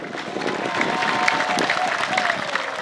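An audience applauds for God at a live gospel concert, a dense, steady wash of clapping from a crowd, with a voice faintly present beneath it.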